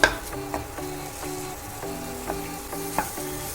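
Oil sizzles steadily as dahi vada fries in a pan, with light scraping and tapping from stirring every second or so; no talking.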